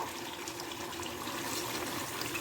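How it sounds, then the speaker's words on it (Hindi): Water pours steadily into a cooking pot for a potato chicken shorba, a continuous close rush of liquid with no talk over it. "अब पानी इसमें हमने डालना है ऑलमोस्ट"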